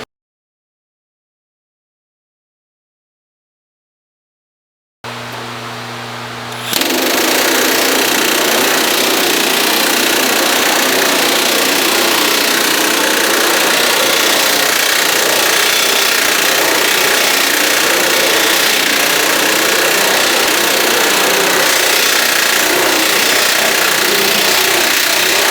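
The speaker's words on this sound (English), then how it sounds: "that's what we'll put it in the planishing hammer" A planishing hammer works dents out of a crease in street rod sheet metal: a few seconds of silence, then loud, rapid, continuous hammering that holds steady to the end.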